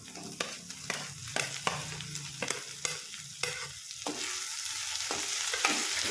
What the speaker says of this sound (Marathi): आता हे वांगे टाकते बारीक करून घेतलेले